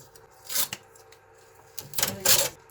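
Strong adhesive tape being peeled off the body of a Creality K2 Plus Combo 3D printer during unboxing, heard as two short, crackly ripping bursts, the second longer and louder, with quiet pauses around them.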